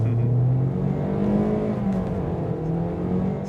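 A Tesla Model S Plaid accelerates hard, its electric drive giving a steady rising whine over a loud, continuous road and motor roar with no talk.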